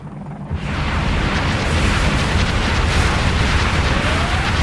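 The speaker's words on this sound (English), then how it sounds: "Gunship deploying. Weapons on full. Free fire." A helicopter gunship fires in the C&C Generals Zero Hour game, a dense roaring barrage of explosive bursts that starts abruptly and keeps going steady and loud.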